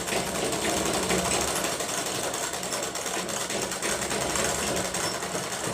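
Sewing machine stitching the side seam of a kurti, running as one steady loud whirring drone with a fast mechanical chatter throughout, close up and without breaks.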